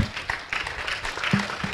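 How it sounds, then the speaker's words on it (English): Brief audience applause for the panelists after a fireside chat on creative businesses, scattered clapping in a room, light and somewhat distant with faint background voices. "A warm round of applause to our panelists"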